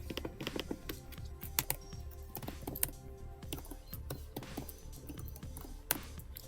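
Typing on a computer keyboard, a quick irregular run of soft close key clicks and taps, faint and unaccompanied by talk.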